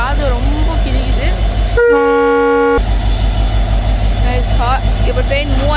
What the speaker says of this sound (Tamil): ஹாரன் சத்தம் காது ரொம்ப கிழிக்குது.